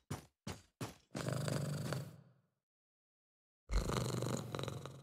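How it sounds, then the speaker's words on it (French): A cat purrs in the video game Moonscars, in close rumbling bursts: a few short breaths, then a longer purr that fades, a pause of silence, and a loud resumption. "Ronronne."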